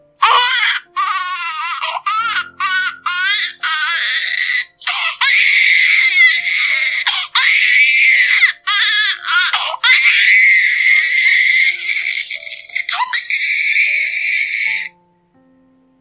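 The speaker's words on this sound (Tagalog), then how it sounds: "biglang umiyak ng malakas ang kanilang anak" A baby wails loudly and continuously, high-pitched sobbing cries broken by short gasping pauses, close and dominant for most of the stretch before cutting off abruptly near the end.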